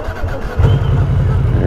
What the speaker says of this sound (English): Starter has a very unique sound to it.